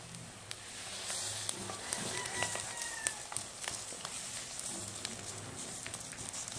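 Chicken feet crisp-frying in a pan, a steady dense sizzle and crackle with scattered sharp pops, close and fairly loud, running throughout with no talk.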